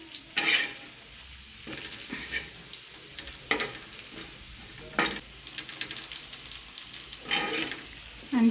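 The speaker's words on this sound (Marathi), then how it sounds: "थोडं तेल टाकतायत आणि तेलावर आता परत भाजून घेणार." Masala roasting in a little oil over a wood-fired stove for a village-style chicken curry, crackling and sizzling steadily with louder bursts of spattering as it is stirred, close and without talk.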